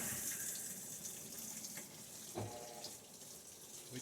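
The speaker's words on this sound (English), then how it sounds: "it is definitely adding filling water" Whirlpool WTW5105HW top-load washing machine filling with water, a steady rushing hiss of inflow running continuously throughout, moderately loud and close, with no voices.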